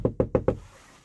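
Four quick, evenly spaced knocks rap on a door, close and firm, followed by quiet room tone.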